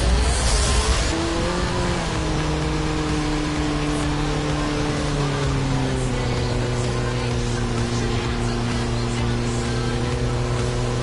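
Race cars in the Flatout 4 video game roar with rising, shifting engine notes and brief tire squeal, loud and continuous throughout.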